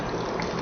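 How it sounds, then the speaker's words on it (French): Alkaline water poured into a plastic cup, a steady broadband gush of liquid running continuously for under a second, close and fairly loud with no voices. "Je vais renverser cette eau, passer dans le gobelet"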